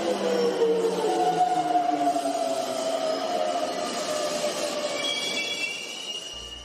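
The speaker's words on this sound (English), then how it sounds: "The Tokyo subway is also quite noisy during peak hours." A Tokyo subway train rolls steadily past with a continuous rumble and long, high-pitched wheel squeals that rise and fade.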